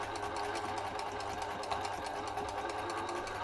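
A sewing machine runs steadily while back-stitching fabric at a 2.5 stitch length, giving a continuous close whir with a fast, even mechanical pulse and no pauses.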